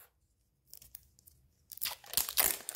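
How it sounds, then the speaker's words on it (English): A Mini Brands Series 2 toy capsule's zipper is pulled open, a quiet pause followed by rough, raspy tearing and zipping bursts that grow louder near the end. "But now we have to get the other zipper off."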